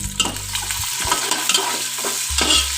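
Onions fry in a pan for tahari, browning with a bright close-up sizzle and a couple of stirring scrapes over a low steady hum, without speech.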